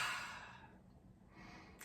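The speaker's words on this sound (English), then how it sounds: "breathe deeply" A slow, deep breath drawn in and let out during a guided heart-chakra meditation, soft and close, a long airy exhale fading then a second inhale rising, with no talking.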